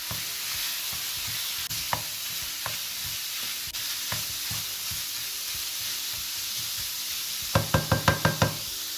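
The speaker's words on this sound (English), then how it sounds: "Now give this a good mix." Mince cooking with ginger garlic paste and salt in a pan, a steady sizzle and hiss running throughout while a spoon scrapes and knocks against the pan, ending in a quick burst of rhythmic stirring knocks.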